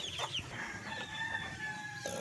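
Backyard chickens, a hen with seven newly hatched chicks, give soft clucks and high chick peeps close by, with a brief crow-like call; quiet and intermittent with no talk.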